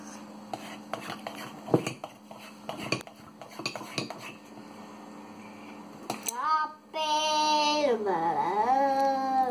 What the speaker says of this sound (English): Now, yeah, I'm going to mix it